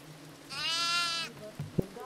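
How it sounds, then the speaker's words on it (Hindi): A goat in the horror video game Devour lets out one loud, wavering bleat, followed by brief thumps and faint background sounds. "अच्छा बकरी है तो"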